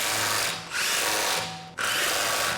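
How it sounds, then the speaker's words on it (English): Impact wrench with a 17mm socket runs in two loud whirring bursts, tightening lug nuts on a Honda Civic wheel, with a brief pause between. "We'll tighten them down with the 17mm socket on the impact wrench."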